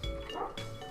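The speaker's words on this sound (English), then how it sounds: "Sorry if you can hear my dog barking in the background" A dog barks in the background, two quick muffled woofs indoors, somewhat distant and moderately loud against a quiet room.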